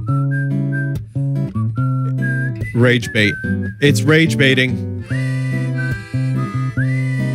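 Loud, shrill whistling from a television commercial rings out in sustained and sliding notes, with people talking over and between the whistles.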